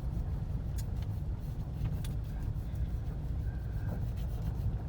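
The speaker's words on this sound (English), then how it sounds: "you hear the car engine and you hear the road noise" Steady car engine drone and rumbling tyre noise from driving on a gravel road, heard from inside the vehicle as a continuous, fairly loud wash with occasional small clicks of gravel.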